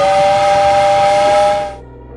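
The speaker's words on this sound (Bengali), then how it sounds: "তারপর সিগন্যাল পেতেই জোরে হুইসেল দিয়ে আবার ট্রেন শুরু হলো ধীরে ধীরে" A loud steam train whistle blows a long steady tone as a train pulls out of a station, with hissing steam under it before it cuts off abruptly into a quiet hum.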